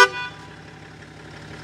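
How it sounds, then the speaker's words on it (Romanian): A BMW X5 car horn gives one short, loud honk at the start, then fades into a quiet ringing tail. "Am găsit claxonul."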